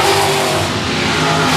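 Limited late model race cars roar around Shady Oaks Speedway in a loud, continuous pack, engines blaring steadily with no pauses and no talk.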